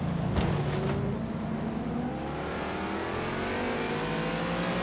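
GT3 race car engines in a sim racing video game, a loud continuous roar with rising and falling revs as the cars accelerate through tight corners, steady and close throughout, with no talk.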